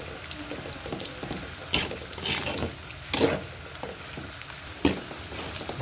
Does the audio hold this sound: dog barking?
no